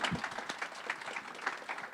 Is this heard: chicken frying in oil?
no